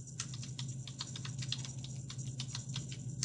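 Rapid, uneven keystrokes on a computer keyboard while entering a table caption in a word processor, close and steady with no talking.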